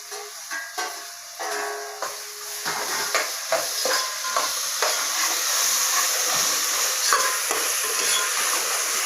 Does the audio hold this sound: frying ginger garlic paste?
yes